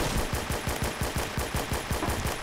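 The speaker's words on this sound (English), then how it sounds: "Man, that was a lot of bullets" Rapid automatic gunfire from the Roblox shooter Phantom Forces, a steady stream of loud, closely spaced shots rattling on for the whole stretch with no talking.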